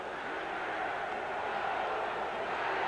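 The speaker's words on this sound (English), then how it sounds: "The crowd calling now for defense." Stadium crowd at a 1985 49ers–Rams NFL game roaring and calling for defense, a steady distant wall of massed voices with no break.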